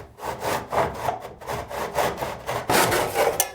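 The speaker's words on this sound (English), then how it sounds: "Then cut a mitre joint at about 45 degrees using a wooden mitre box." A handsaw cuts a 45-degree mitre in plaster cornice held in a wooden mitre box, steady back-and-forth rasping strokes, loud and close, with no voices.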